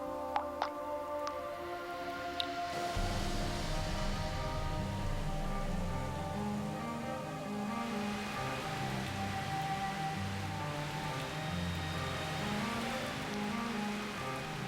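Heavy tropical rain pours steadily over the Amazon rainforest, a dense continuous hiss with a low rumble beneath, opening with a few sharp drips before the downpour thickens and stays loud throughout.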